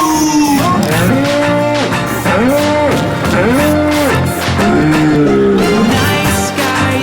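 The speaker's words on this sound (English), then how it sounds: "Cows go moo." A cow mooing repeatedly, several long, loud, low calls with rising and falling pitch, close to the microphone and with no talking over them.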